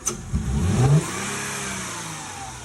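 Close and loud, a Mercedes W203 engine freshly back from maintenance takes a quick throttle blip, surging up then settling into an even, smooth hum with no sputter.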